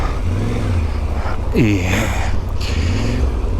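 A heavily loaded motorcycle rides over gravel and sand in the Uspallata and Mendoza area of Argentina, its engine droning steadily with a rising rev, close and loud, under someone talking and wind noise.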